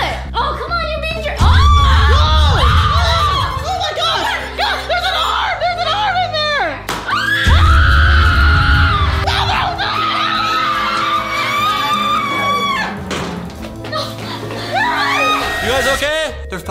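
Loud, excited screaming from several young people in a mystery room, with frantic shouting and overlapping voices that swell in two bursts and continue under steady talk throughout.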